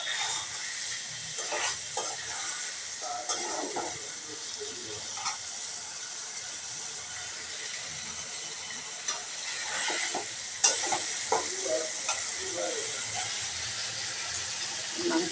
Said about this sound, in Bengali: মাছটা কষিয়ে নিচ্ছি আলু দিয়ে